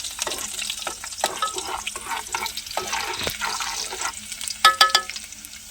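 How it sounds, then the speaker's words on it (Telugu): Onions fry in a pan for a village-style potato curry, a crackling sizzle broken by repeated scraping stirs and a few louder clatters near the end, heard close up with no talk. "ఉల్లిగడ్డలు వేసుకున్నానండి బాగా కాగిపోయింది"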